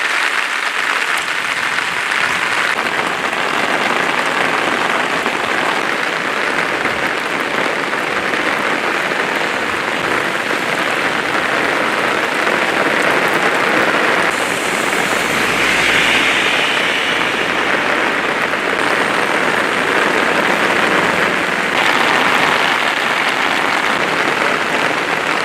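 Heavy rain falls steadily outdoors near a riverside bridge and its protective wall in Kodiyathur, a dense, loud, unbroken hiss that holds at a constant level throughout, with no talking.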